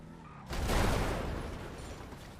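A sudden loud video game explosion booms in and rumbles on as a broad roaring blast, slowly fading but still heavy at the end.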